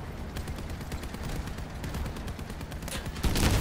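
Trombone weapons firing from a robot in the War Robots game, steady rapid gunfire volleys at moderate level, with a louder blast near the end.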